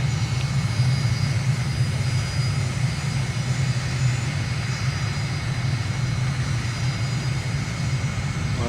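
Jet engine of an aircraft on the runway in Microsoft Flight Simulator, a loud, steady, continuous low roar with a faint high whine, no talk.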